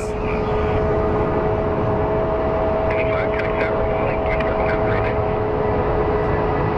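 A Sun Country Airlines airliner at Phoenix Sky Harbor airport produces a loud, steady engine roar with a sustained tonal whine, and faint voices may sit under it.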